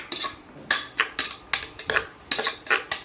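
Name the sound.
frying onions in a pan on an electric stove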